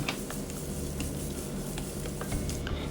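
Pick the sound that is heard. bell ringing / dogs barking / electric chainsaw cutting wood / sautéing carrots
sautéing carrots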